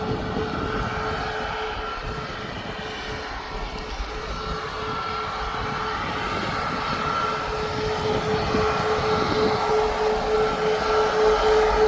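An EasyJet airliner departs Birmingham Airport bound for Amsterdam, its jet engines a steady, broad roar with a faint tonal whine, slowly building in loudness as it powers away.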